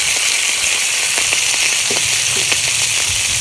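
Meat sizzles in hot oil in a wok over a wood-fired Solo Stove firepit, a loud steady hiss with scattered pops and crackles throughout.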